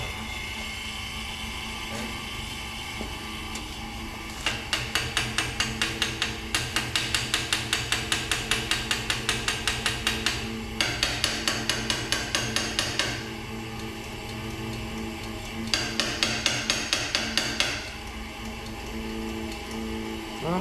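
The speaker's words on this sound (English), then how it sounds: "I'm gonna run the pump and tap on the carb" A 1928 Ford Model A carburetor is tapped repeatedly while the fuel pump runs, bursts of rapid light metallic ticking over a steady mechanical hum.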